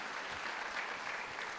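A church congregation applauds during a Sunday morning service, producing soft, continuous clapping heard at a distance with no pauses.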